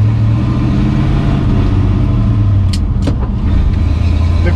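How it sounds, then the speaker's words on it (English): A 1968 Ford Torino engine runs steadily while the car drives, a loud, continuous low rumble with a slight rise in pitch near the end and a couple of brief high clicks over it. "the engine runs really smooth"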